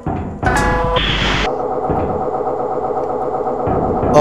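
A steady, loud mechanical drone of engine-room machinery in a horror video game, with a rising whine near the start, humming continuously throughout.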